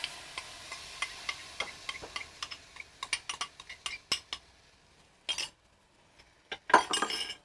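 A utensil stirs coconut milk and soy satay sauce in a pot, giving quiet, steady clinks and scrapes against the metal that grow busier and more irregular, close and without talk.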